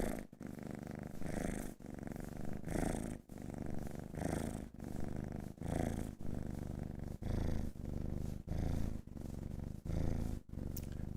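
A cat purrs right up close to a microphone, a loud rumbling drone that pulses in steady cycles with each breath, alone and uninterrupted.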